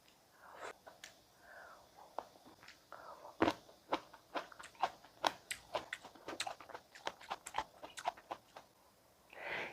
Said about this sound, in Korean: 여러분 과일 먹어볼게요.